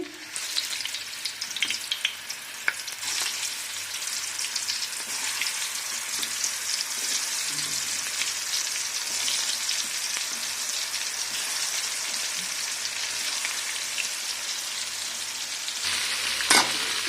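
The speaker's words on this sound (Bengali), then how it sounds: "তো কুপ্তাগুলো ভাজা হচ্ছে আমি এক এক করে উল্টে দিচ্ছি" Koftas frying in hot oil, turned one by one, produce a steady, dense crackling sizzle heard up close for the whole stretch, with a couple of brief clicks from the utensil and no voices.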